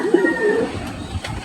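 Pigeons in a loft coo softly in low, rolling bursts, fairly close, with a faint whistle-like tone early on and some background noise, no talking.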